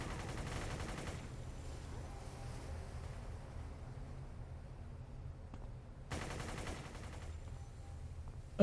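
In City of Heroes, enemy turrets fire rapid gunfire in two distinct bursts, one at the start and one later, over a constant low game ambience.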